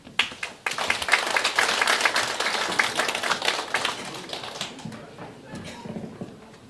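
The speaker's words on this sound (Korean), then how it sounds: "큰 박수로 부탁드리겠습니다" A crowd claps warmly for an elderly neighbour at a neighbourhood New Year greeting gathering in Sungin 1-dong. Dense clapping swells quickly, holds for several seconds, then thins out, with some talking mixed in.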